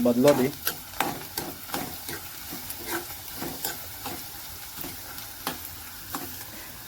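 Sliced onions stirred in hot oil for egg biryani give a steady sizzle, with repeated scraping strokes of the spoon against the pan and a brief spoken word at the start.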